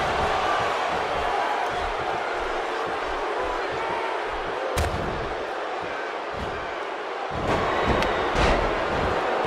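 A video game wrestling arena crowd roars in a steady, dense wall of cheering, with occasional thuds and impacts from the ring.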